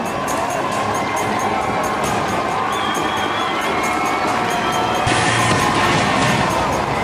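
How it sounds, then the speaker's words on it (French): Roadside crowd at a cycling race in France cheering and applauding steadily, a dense roar with whistles and shouts that swells louder near the end. "Et la France vous applaudit, la France est debout."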